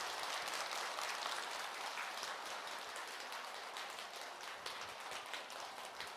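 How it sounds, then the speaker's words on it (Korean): A temple congregation claps for a monk after a Dharma talk at a Buddhist service, a faint, dense, even patter of applause that sounds somewhat like rain, with no talking over it. "금일 법문해 주신 법사 스님께 큰 박수 부탁드리겠습니다."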